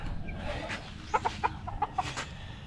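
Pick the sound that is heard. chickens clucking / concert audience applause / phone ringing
chickens clucking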